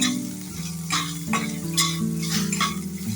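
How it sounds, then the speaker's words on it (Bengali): Raw green mango pieces fry in a pan with five-spice as a fish curry is cooked, with steady close sizzling and scraping of a spatula stirring them around, and no talking. "আমগুলো একটু হালকা করে ভেজে নিচ্ছি"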